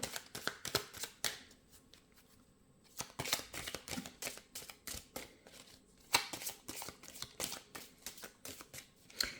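Tarot cards being shuffled, a dense run of crisp riffling bursts and soft slaps that pause briefly near the middle, close and fairly quiet with no voice over them.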